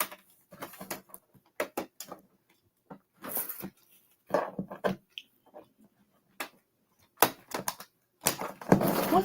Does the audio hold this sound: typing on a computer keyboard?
yes